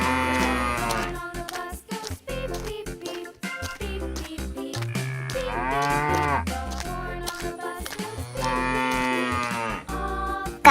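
Several drawn-out cow moos rise and fall over a lively cartoon-style backing track in a children's animal-sounds bowling game, with sharp percussive knocks between calls.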